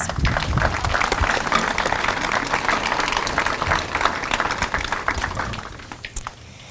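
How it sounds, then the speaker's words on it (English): Sustained audience applause in a hall honoring family members of World War II service members, dense and even, tapering off near the end into scattered claps. "we want to give you a round of applause too for all those family members"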